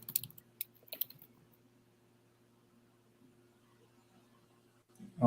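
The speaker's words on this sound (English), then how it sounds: "I just heard him typing." Faint, quick keyboard clicks are heard at the start of an online call, a short flurry of typing that trails off into near silence before a soft noise at the end.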